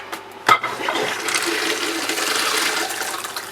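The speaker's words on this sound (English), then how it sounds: "now I'm going to push this handle and see if it'll fill up" A toilet flushes after a sharp click of the handle, then water rushes and refills steadily, loud and close.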